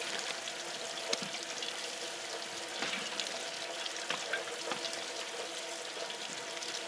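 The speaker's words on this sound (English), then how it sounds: "I'm going to go ahead and start agitating this water like they told me to as well. Just moving these shrimp around." Water in a shrimp boiler is stirred to move the shrimp around, giving a steady close sloshing and trickling wash with small splashes and no talk.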